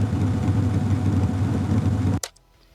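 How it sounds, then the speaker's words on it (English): A Jeep engine idles with a steady low rumble that cuts off abruptly near the end, leaving near silence with a brief faint tail. "Here's the Jeep idling."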